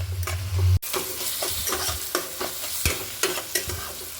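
Sliced onions with salt sizzle and fry in a pan for a Bengali-style meat curry while a spoon stirs them, giving a steady loud crackle broken by regular scraping strokes.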